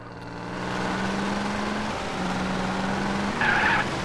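Car engine drone and screeching tire skids from a racing mission in GTA San Andreas, a steady motor hum holding through the clip before a short, sharp squeal near the end, with no crash impact clearly standing out.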